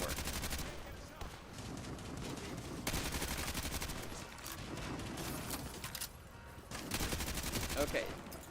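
Sustained gunfire from a BTR armored vehicle in Call of Duty: Modern Warfare 2, dense rattling bursts that roar on and off in loud waves, with brief lulls between volleys and game battle noise around them.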